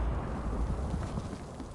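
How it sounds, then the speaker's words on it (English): A big explosion in the Battlefield Hardline video game, set in a swamp: a dense, rumbling low roar that stays loud and steady for its whole length, with crackling debris over the top. "Big ass explosion!"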